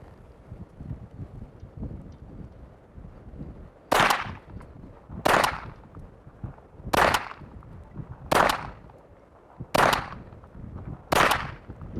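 A Charter Arms Explorer II pistol is fired at an outdoor range: six loud, sharp shots evenly spaced about a second and a half apart, with wind rumbling between them.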